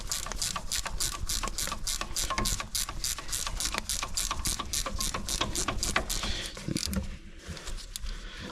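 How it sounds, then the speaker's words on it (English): Ratcheting spanner with a 13mm end tightening rear brake bolts on a Land Rover Discovery 2, a brisk run of sharp repeated clicks up close that stops near the end. "I'm just going to get a 13mm ratchet, well, spanner with a ratchet end, and just tighten them up just like that"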